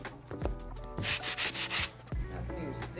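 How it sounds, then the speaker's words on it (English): A medium bristle brush scrubs a sneaker insole from a pair of Jordan 3s, giving steady close rubbing strokes with a quick run of brisk, harsher back-and-forth passes partway through. "grab the insole and use a medium bristle brush to get it back to white"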